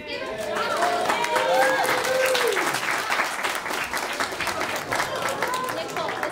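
Audience applause at a student showcase, a dense wash of clapping that swells and holds steady throughout, with children's and adults' voices and some cheering mixed in over the claps.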